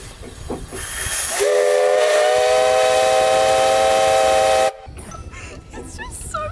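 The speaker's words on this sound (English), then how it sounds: "he blew the whistle" A loud, sustained steam whistle on the paddle steamer P.S. EmmyLou on the Murray River blasts for about three seconds over a rushing hiss, then cuts off abruptly, leaving a quieter background.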